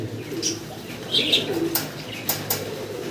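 Fancy pigeons coo softly up close, a few short throaty calls with brief higher chirps, in a quiet room with no talk.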